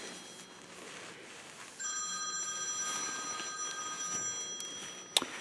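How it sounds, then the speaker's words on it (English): A phone rings faintly in a workshop beside a homemade crank polisher, steady electronic ring tones repeating against a low background hum, with a sharp knock near the end. "That sounds like my phone's ringing."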